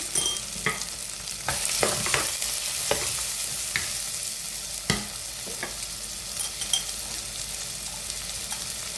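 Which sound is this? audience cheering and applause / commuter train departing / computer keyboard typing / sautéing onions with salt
sautéing onions with salt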